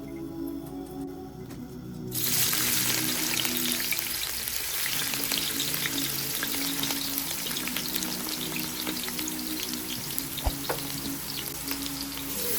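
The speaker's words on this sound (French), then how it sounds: "Faites frire vos oignons" Onions frying in hot, salted oil for a Senegalese thieb au poisson, a loud, dense sizzle that bursts in suddenly and crackles steadily alone to the end.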